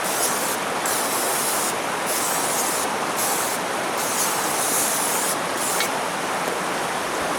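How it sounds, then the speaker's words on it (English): A continuous hiss of non-stick cooking spray coating a baking dish runs for several seconds, loud and close, with slight pulses as the spray is swept around. "I'm going to use a little non-stick spray in this"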